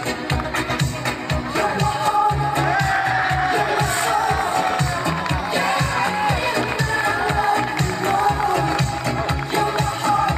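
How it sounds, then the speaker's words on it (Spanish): A crowd applauds at a veterans football award ceremony, with dense, steady clapping and cheering that lasts the whole stretch at full level over a busy background. "Aplauso para la UOCRA."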